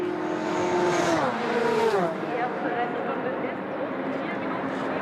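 A race car engine at the 2016 FIA WEC 6 Hours of Spa-Francorchamps powers down the hill toward Eau Rouge, its loud pitch dropping as it passes, with a commentator talking over it.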